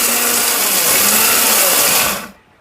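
A 1200-watt, 21000 rpm blender with a 100% copper motor runs at full power with a loud, steady high-pitched whir that cuts off abruptly near the end.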